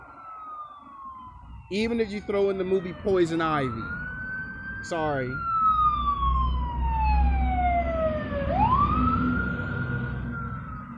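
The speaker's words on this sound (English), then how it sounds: "That was a fire truck that passed by" A fire truck siren wailing past outside a laundromat, sweeping up and down with horn blasts and a deep engine rumble as it goes by, loud and near, with someone talking over the start.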